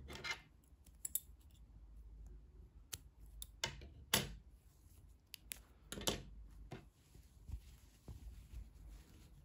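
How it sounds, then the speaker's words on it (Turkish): Scissors snip through yarn during a crochet project, a few short, sharp cuts and scratchy rustles scattered across the stretch, close and fairly quiet. "İpliği kesiyorum"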